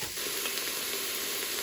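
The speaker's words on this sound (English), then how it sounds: "This is my veggies sauteing around in there." Chopped vegetables sauté in an Instant Pot, giving a steady, close sizzling and hissing throughout with no talking.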